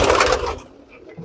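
Rampuri Indian pigeons coo in a short, soft burst close by, the murmuring sound fading out after about half a second.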